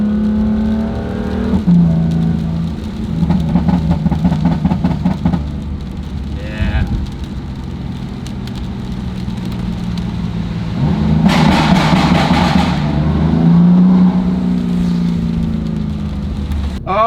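A BMW F80 M3 engine pulls through the gears while driving, its rising revs broken by audible shifts, loud and close over steady road and cabin noise.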